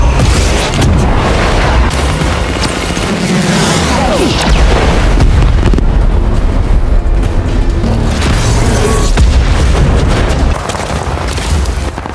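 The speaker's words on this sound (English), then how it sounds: "After a series of explosions" A barrage of loud booming film explosions and crashing blasts, rumbling continuously with debris-like bursts, dense and close throughout.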